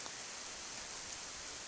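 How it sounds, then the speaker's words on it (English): Steady drizzle falling with gusty winds during a hurricane on a hike between Harpers Ferry and Front Royal, a constant faint hiss of rain and wind with no voices. "It's steady drizzle, gusty winds"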